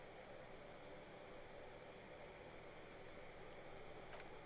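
Soft, steady patter of rain falling in the video game Disco Elysium, a continuous wash of drops with faint scattered ticks, quiet and without voices.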